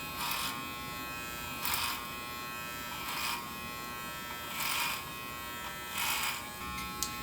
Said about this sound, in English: Ensure your clippers do not ride above the width of your comb.